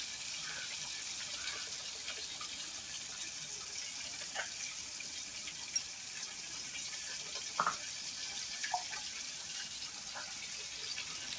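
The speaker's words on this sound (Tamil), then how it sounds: "இப்போ புளி தண்ணி சேர்த்துக்கலாம்." Tamarind water pours steadily into a pan for sardine curry in a soft continuous splashing hiss, fairly quiet, with a few small clinks along the way.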